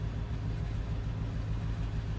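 A 2001 Chevy Silverado 1500 with a 4.8 V8 idling after a cold start, a low, steady, faint engine rumble with no talking.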